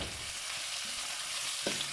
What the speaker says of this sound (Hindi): प्याज को हम तब तक फ्राई करेंगे जब तक इसका कलर गोल्डन ब्राउन ना हो जाए।